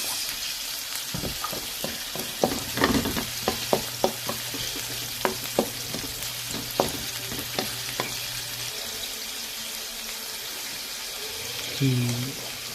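Onions browning in a pan after garlic, a moderate sizzle broken by repeated spoon taps and stirring clatter, with a brief voice near the end.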